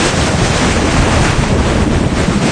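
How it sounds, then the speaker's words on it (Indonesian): A cartoon storm at sea, with big waves and strong wind making a loud, dense, continuous roar of surf and gusts and no voices. "Badai sudah turun dan semua orang harus berlindung."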